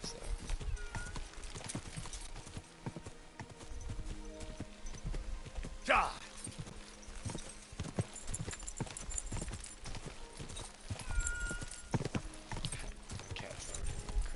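A horse in the video game Kingdom Come clip-clops along in a steady rhythmic gallop, with a sharp whinny partway through, while a player talks and exclaims over it.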